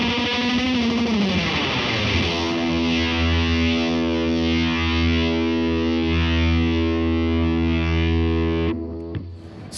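Distorted electric guitar played through a Dunlop Hendrix 69 Psych series pedal, a bending opening phrase then a long sustained fuzzy chord ringing out before cutting off abruptly near the end.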